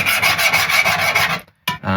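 Close, loud rhythmic scraping against a surface during a Porsche restoration, a steady rasping back-and-forth stroke that pauses briefly and then resumes.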